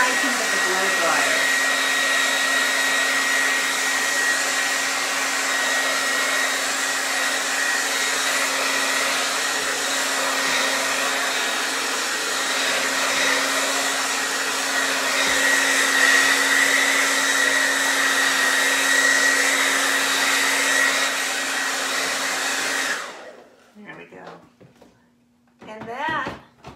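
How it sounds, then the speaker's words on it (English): A hair dryer roars steadily on high heat for most of the clip, close and loud, then cuts off abruptly near the end, leaving quiet handling noises. "So I want the high heat of the blow dryer."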